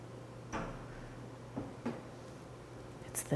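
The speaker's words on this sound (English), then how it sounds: "it's the door." A door at a Halloween show makes several faint knocks and bumps, spaced irregularly over a low steady hum of background noise.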